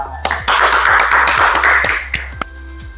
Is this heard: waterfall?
no